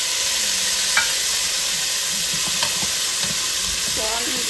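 Two tomatoes going into a pan of browned garlic, a steady loud sizzle of frying with stirring scrapes throughout, no talk.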